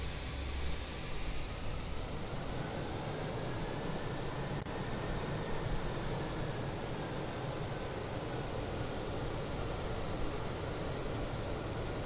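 Four-engine Just Flight BAE 146 jet airliner in Microsoft Flight Simulator 2020, engines spooling up as the parking brake is released: a steady, loud broadband jet roar with a thin high whine, constant throughout and alone without talk.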